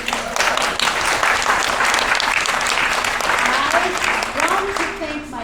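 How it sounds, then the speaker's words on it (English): A theater audience applauding after a community stage performance of the musical Something Rotten, loud sustained clapping that fills the room, with some voices rising among the crowd before it starts to fade. "a guy back there called Al Belleville, who deserves a round of applause."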